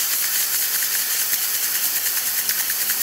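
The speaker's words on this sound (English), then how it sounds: "As you can see, the steam coming out of the machine" Steady, loud hiss of steam from an ECM Elektronica Rota espresso machine with a heating fault, continuous and close, with faint mechanical ticking underneath.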